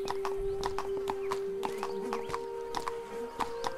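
Horse hooves clip-clop at a steady walking rhythm in the medieval video game Legacy of the Templars, with a short neigh among the hoofbeats and a constant tonal hum underneath.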